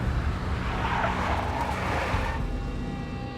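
A big black Mercedes skids in the Max Payne video game, producing a loud, sustained tire screech over a roaring engine, steady and close throughout, easing off slightly toward the end.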